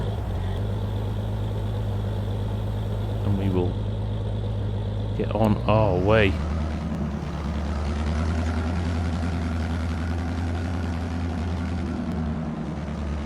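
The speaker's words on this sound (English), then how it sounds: "So, we will fire it up, let you hear that engine." A tractor engine in Farming Simulator 22 idles steadily with a low droning hum, briefly rising in pitch as it fires up, with someone talking over it.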